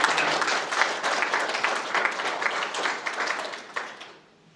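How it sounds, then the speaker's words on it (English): A school audience claps steadily for students' parents at a student-of-the-month presentation, a dense, close wash of many hands that keeps an even level before tapering off near the end. "you definitely deserve another round of applause because we can't do this without our parents"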